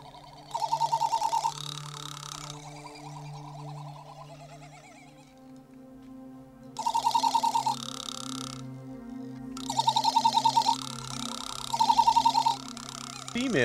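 A male frigatebird in a Galapagos colony gives bursts of warbling, rattling calls while vibrating his inflated red throat balloon, three or four loud pulsing bouts separated by quieter stretches of low droning background.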